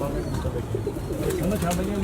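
A pure-breed pigeon coos in low, soft, repeated notes under a dense, noisy background with voices nearby.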